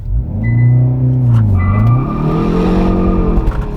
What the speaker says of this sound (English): clutch in, floor it.